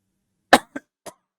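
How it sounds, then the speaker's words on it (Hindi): A single sharp cough followed by two smaller, quieter coughs in quick succession, close and otherwise silent. "खांसी आ रही है मुझे"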